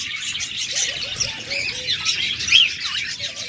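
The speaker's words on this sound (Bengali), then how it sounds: "এখানে একটা পাখি জোড়া রয়েছে" Pairs of pet cockatiels, budgerigars and lovebirds kept for sale, a dense close chorus of chirps, squawks and chatter running continuously and fairly loud, with no talking.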